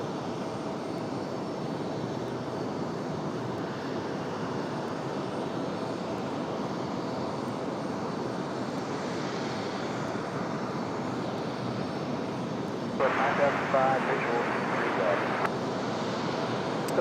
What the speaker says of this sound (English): One of our favorites, the ATR. Clear to land.